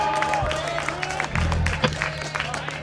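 Crowd applause and scattered cheering at a live metal concert in Galdar, a brief burst of clapping with crowd noise that stays steady and fairly close.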